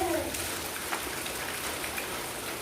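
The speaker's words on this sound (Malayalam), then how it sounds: "ഇപ്പം ഈ പുറത്ത് മഴ ഇങ്ങനെ ചീഞ്ഞുകൊണ്ട് നിൽക്കുന്ന സമയത്ത്" Rain falls steadily outside, a soft continuous patter and hiss heard at a distance, with faint drips on surfaces and no voices.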